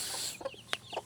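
Backyard hens cluck softly outdoors after a brief rain, a few short, faint clucks and chirps spaced over about a second.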